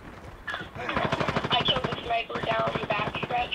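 Rapid bursts of gunfire in a multiplayer shooter game, dense repeated shots with a loud crack, mixed with excited player voices talking over them.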